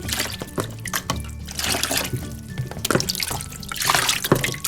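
Frozen plastic toys and a surprise egg sit in hot water, giving steady sloshing, dripping and trickling throughout, close and fairly loud, with no talk.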